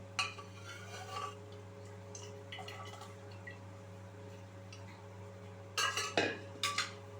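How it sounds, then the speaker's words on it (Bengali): Ghugni ingredients being stirred with spices in a pan, heard as soft scraping and clinks of a spoon against metal over a steady low hum, with a few louder knocks near the end. "এবার সমস্ত উপকরণ ভালো করে আমি মশলার সাথে আমি মিশিয়ে নিচ্ছি"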